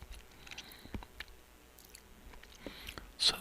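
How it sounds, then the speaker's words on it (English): Close, quiet chewing of crunchy, slightly burned toast, with soft irregular crunches and mouth sounds spread through the stretch and a louder bite near the end, no talking. "So my toast is a little burned, but it's actually very good. It's crunchy."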